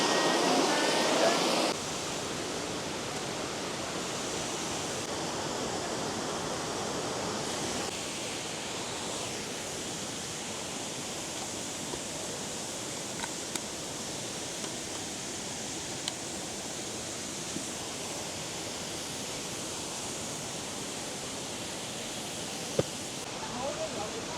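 A turquoise waterfall cascading among autumn foliage, giving a constant broadband rush of water at moderate distance that continues unbroken for the whole stretch, with a faint scattering of small clicks and no clear talking.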